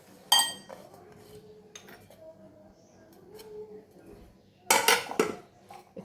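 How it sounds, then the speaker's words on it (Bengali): Puffed rice pakora batter with onion, tomato and dry ingredients is stirred in a bowl, with two bursts of loud clinking and scraping of metal against the dish and quieter handling in between. "একটু নাড়াচাড়া করে নিচ্ছি"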